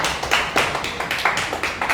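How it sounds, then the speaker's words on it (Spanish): Attendees at an inaugural assembly of a motorcycle purchasing group clap for an award recipient, a modest round of applause with clustered, uneven claps from a small crowd, fairly close and without speech. "un fuerte aplauso para el señor Jesús"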